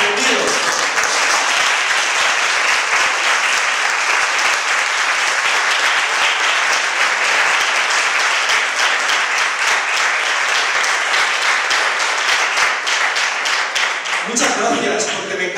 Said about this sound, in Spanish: Uno de ellos para mi aplauso